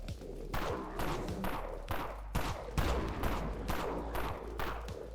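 Full-auto pistol fire in the zombie shooter Dead Frontier comes in repeated rapid bursts, each a loud rattling string of shots separated by brief pauses, with no talking over it.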